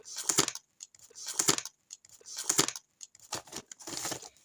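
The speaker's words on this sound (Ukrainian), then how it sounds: "Відкриваємо ось такий ось великий пакетик. Тут у нас перфорація." Paper surprise packet being torn open along its perforation, giving three distinct bursts of crisp tearing and crinkling about a second apart, then a longer rustle, close and fairly quiet.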